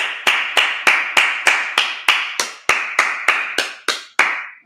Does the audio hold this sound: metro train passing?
no